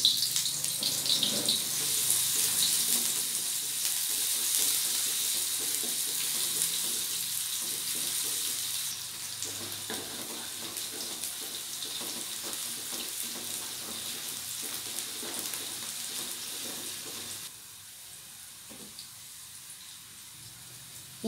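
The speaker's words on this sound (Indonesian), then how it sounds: "Jadi ini aku tumis bawangnya" Onions and spices are sautéed in a pan with a loud, continuous frying hiss that holds steady, then drops to a quieter sizzle near the end.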